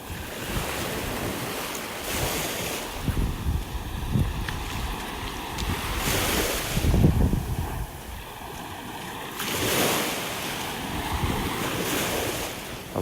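Calm ocean waves on a beach in North Naples, Florida, on a peaceful morning: soft surf washing in gentle swells that rise and fall every few seconds, mixed with steady wind rumble against the microphone and no talking.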